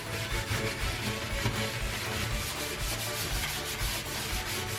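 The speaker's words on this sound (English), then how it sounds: "you're definitely gonna wanna have gloves on to scrub this because the vinegar will burn your hands" Steady, close rhythmic scrubbing of a shower with vinegar cleaner by a gloved hand, a continuous rubbing sound with no talk.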